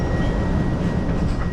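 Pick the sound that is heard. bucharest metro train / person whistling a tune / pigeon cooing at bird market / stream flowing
bucharest metro train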